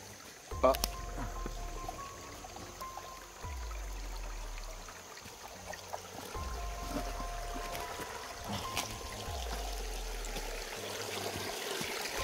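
Water runs steadily through a small drainage channel in an outdoor setting, with a few low, heavy thumps recurring every couple of seconds and faint voices in the background.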